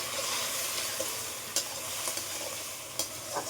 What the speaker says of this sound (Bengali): খুব সামান্য দেখো জল দিলাম।